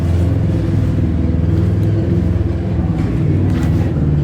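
A Suzuki Samurai with a rear-mounted Suzuki engine runs at a steady idle, a loud, close, continuous low rumble with an even throb and no pauses.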